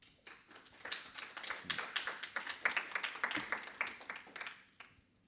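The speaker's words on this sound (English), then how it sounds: "like round of applause" A modest room of attendees applauds after a programming conference talk, scattered claps building to a steady patter, then tapering off to a few last claps.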